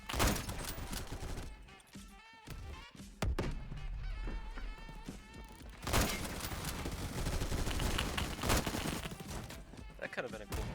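Rapid gunfire from a Mac 10 submachine gun in a first-person shooter video game rattles in dense bursts over game sounds, with a few louder single shots cutting through.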